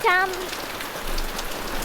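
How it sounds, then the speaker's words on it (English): Rain falls in Darwin near a caravan, a steady soft hiss of drops on surfaces with a brief warbling bird call at the start. "we had to run in the rain to get to our caravan now"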